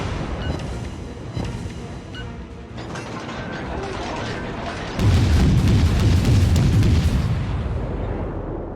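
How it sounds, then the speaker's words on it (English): Cruiser guns firing at a destroyer in World of Warships, from an American Tier III St. Louis: a run of mechanical booms and clanks, with heavier, louder firing building through the second half over a rumbling background. "now we're gonna fire at that destroyer"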